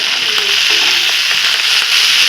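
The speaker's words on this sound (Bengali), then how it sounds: "মাছগুলো আস্তে আস্তে একটু নেড়ে নেড়ে ভেজে নিই" Fish frying in a pan while being gently stirred, a loud, close, continuous hissing sizzle with faint scraping stir sounds underneath and no talking.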